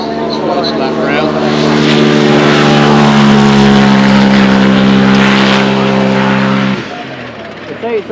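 Single-gear race car running flat out at Goodwood Festival of Speed, a loud, close, sustained engine howl that holds a steady pitch, then drops away abruptly near the end, with a voice heard over it.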